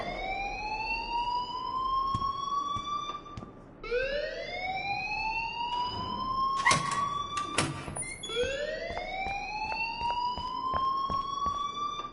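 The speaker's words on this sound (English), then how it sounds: "please turn off that alarm since that's your job" An alarm in the video game Life is Strange wails in rising, siren-like sweeps, repeating about every four seconds, loud and steady, with a few sharp metallic knocks between the wails and no speech.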